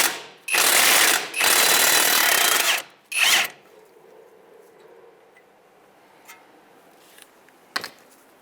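A power tool spins 19 mm nuts off the wheel hub of a 2007-2015 Mazda CX-9, with two long loud close bursts and a short third. Faint clicks follow in quiet.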